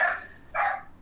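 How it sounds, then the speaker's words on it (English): Dogs bark twice in quick succession during a live online interview, two sharp, fairly close bursts about half a second apart, with no talk over them. "sorry about the dogs, guys"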